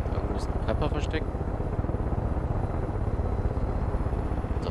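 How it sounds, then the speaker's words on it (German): Two helicopters following a boat convoy in Far Cry 5 give a steady, loud rotor-and-engine rumble that fills the whole stretch, with a few brief higher chirps near the start. "Doch sehr unauffällig, so mit zwei Hubschraubern hinterm Bootskonvoi herzufahren."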